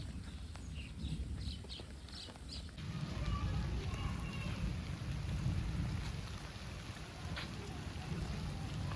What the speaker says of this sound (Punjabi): ਇਹ ਜਿਹੜੀ ਬਾਰਿਸ਼ ਹੈ ਨਾ ਉਹ ਕਾਫੀ ਤੇਜ਼ ਸਟਾਰਟ ਹੋ ਚੁੱਕੀ ਹੈ